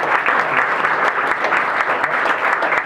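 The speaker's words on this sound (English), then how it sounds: "Big round of applause, please, for Richard." Loud, dense audience applause for Richard at a Hilton 50th celebration, steady clapping from a full room with no talk over it.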